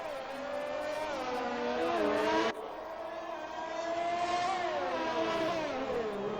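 Formula race car engine in an F1 video game, revving loudly with rising and falling pitch as the car pulls out of the pit box at the Canadian Grand Prix, a sharp gear change cutting the tone midway, steady and close throughout.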